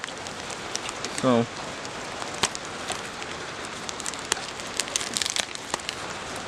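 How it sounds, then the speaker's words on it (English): Rain begins falling at an old abandoned place, a dense patter of drops with scattered sharp taps against steady hiss. A voice speaks briefly near the start. "it's starting to rain"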